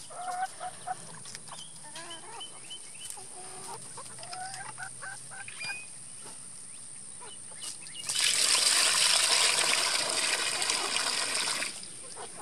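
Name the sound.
chickens clucking in a chicken tractor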